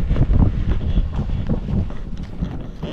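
Strong wind in drizzly weather at a farm field buffets the microphone in loud, rumbling gusts that rise and ease over a few seconds.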